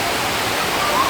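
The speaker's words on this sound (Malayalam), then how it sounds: "ഭയങ്കര സൗണ്ടാണ് കേട്ടോ വെള്ളത്തിൻ്റെ." A waterfall in Kanyakumari district roars with a loud, steady, broadband rush of falling water, filling the space with no break.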